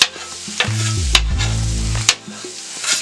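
Potatoes and mushrooms fry on a Steelmade griddle with a steady, close sizzle, broken by a few sharp clinks of a metal spatula scraping and stirring on the hot steel surface.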